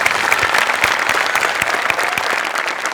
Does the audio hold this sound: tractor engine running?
no